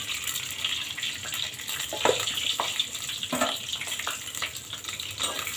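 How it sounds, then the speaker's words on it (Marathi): Cumin seeds hit hot oil and ghee in a pot for veg pulao, producing a constant hissing sizzle with scattered pops and light stirring. "आणि त्याच्यात जिरे टाकते."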